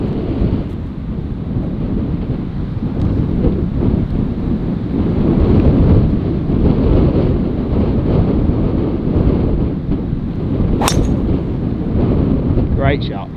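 Strong wind buffeting across a golf course, a loud continuous roar with gusty swells through the whole stretch and a faint whistle near the end.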